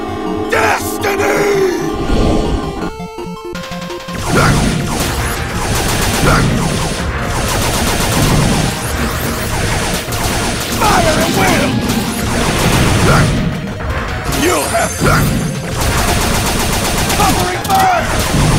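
In Mighty No. 9, rapid gunfire and explosive impacts play loud and continuous, layered over game music and sound effects throughout.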